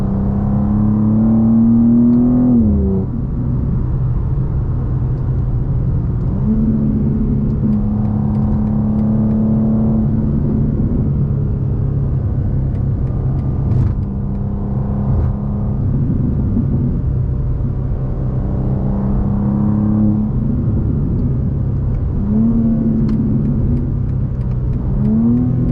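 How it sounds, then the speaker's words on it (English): BMW M2 G87 with a non-resonated single mid-pipe exhaust accelerating on a Las Vegas road, engine note rising and falling through repeated revving pulls, loud and close throughout with a steady low rumble. "I have a mad non-resonated single mid-pipe. So it kind of is like factory tone, but with a little bit more volume."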